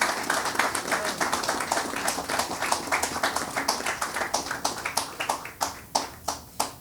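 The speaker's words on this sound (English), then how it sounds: "Could we give him a special hand of applause?" Audience applause at the opening of a building in St. Kitts and Nevis, a sparse crowd of hands clapping in a quick patter that thins toward the end into a few distinct, slower claps.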